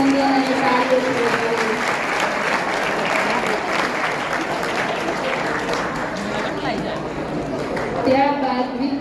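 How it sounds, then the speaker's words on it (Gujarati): Sustained applause from the audience at a Guru Purnima honours ceremony for bright students at Shri P. M. Sarvodaya High School, greeting the first-placed student, with a dense wash of clapping that runs for the whole stretch and a voice over it near the end. "ખૂબ ખૂબ અભિનંદન અને તાળીઓ।"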